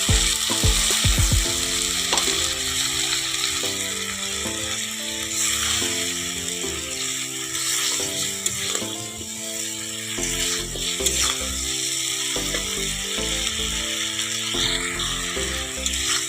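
Fried vegetables with a splash of water get stirred in a pan for Bengali shukto, a steady sizzle and occasional utensil scrapes running beneath continuous background music.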